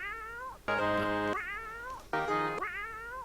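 Two drawn-out cat meows from the video game Oregon Trail II, bright and tonal with rising and falling pitch, clear and close against a quiet background.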